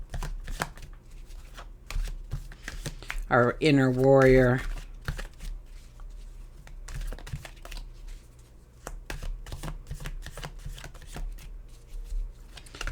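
Tarot cards riffle and snap in quick bursts, followed by steady tapping and flicking as the deck is handled; a voice speaks briefly partway through.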